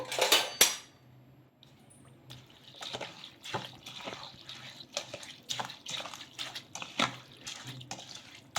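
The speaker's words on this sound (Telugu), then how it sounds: "ఒకసారి మొత్తం కలిసేలాగా కలిపేసుకుందాము" Repeated scraping and clinking of a utensil against a bowl as fresh coconut batter with water is mixed, in an irregular rhythm, close by, with no talking.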